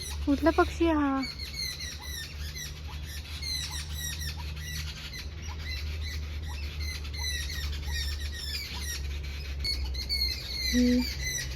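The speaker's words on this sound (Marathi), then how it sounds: "कुठला पक्षी आहे हा?" An outdoor bird gives repeated squawking calls at a resort, and the calls sound fairly close over steady low background hum. A brief vocal sound comes at the start and a short tone near the end.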